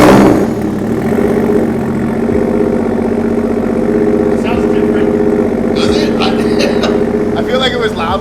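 A car engine with a newly installed muffler idles loud and steady, its exhaust note deep and rumbling, while a person talks briefly over it toward the end.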